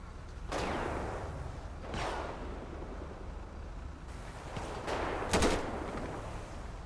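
Gunfire in a video game police roleplay shootout, several distant-sounding booming shots spaced out over a steady background rumble, with one sharper, louder crack near the end.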